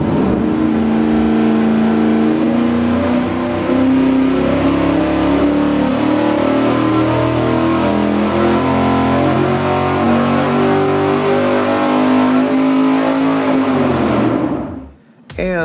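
A high-performance V8 engine on a dyno during an engine shootout, running loud and steady at high revs for about fourteen seconds before cutting off abruptly.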